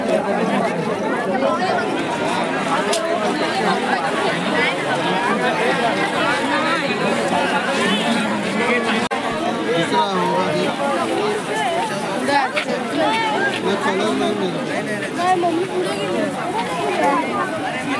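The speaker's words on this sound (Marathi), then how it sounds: "भरपूर मित्रांनो गर्दी आहे बघा" A dense crowd at the Varsu Aai village fair in Vashi, Pen taluka, gives off a continuous loud babble of overlapping chatter that holds steady from start to finish, with nearby voices mixed into the hubbub.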